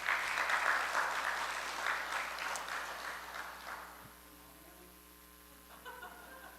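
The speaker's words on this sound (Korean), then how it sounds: "하나님께 감사의 박수 드리겠습니다." A church congregation claps in thanks to God, a broad round of applause that is strongest at the start, gradually fades away under a steady electrical hum, then a faint pitched tone rises near the end.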